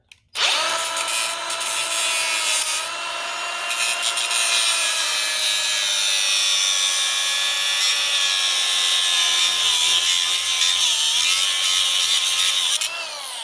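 Power tool grinding steadily through a nut on a bolt from a garden harrow, a loud continuous high metallic whine held close for over twelve seconds, slowly shifting in pitch, then cutting off abruptly.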